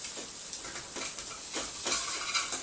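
A spatula scraping and stirring egg and bacon in a hot oiled frying pan, steady loud sizzle with several short scraping strokes, close up and without talk.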